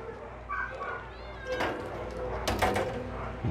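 A shelter cat meows a few times amid room noise, with some knocking and rustling, and a person talking nearby.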